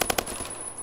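Rapid automatic fire from the S4VG rifle in the shooter game Phantom Forces, three sharp close shots in quick succession, then a ringing tail that fades.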